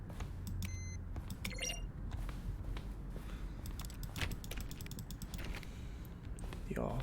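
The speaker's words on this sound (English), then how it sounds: "A selection of the sounds used through the game when buttons are pressed. Each sound is a mix of keyboard stroke and synthesizer" Button presses from The Stanley Parable, each a keyboard stroke blended with a synthesizer tone, sound as a scattering of short clicks and brief tonal blips over a steady low hum, with a few bright chirps near the start.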